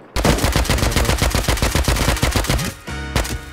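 Rapid bursts of gunfire in the game Rust as a shotgun trap is shot, a loud, fast, steady volley of close shots that pauses briefly, then resumes with a few more.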